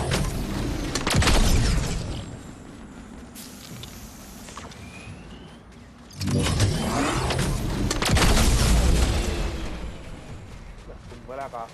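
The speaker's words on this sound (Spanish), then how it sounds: "escucha los tiros" Gunfire in the Fortnite video game, several sharp booming shots and blasts heard around the start and again in later bursts, mixed with game noise while players talk in Spanish.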